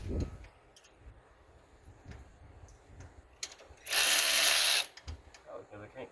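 Ratchet wrench loosening a bolt on a 1995 Ford F Super Duty Power Stroke engine during water pump and thermostat work: one loud, sustained, close-up burst of ratchet clicking lasting about a second, with quieter shop clatter before and after.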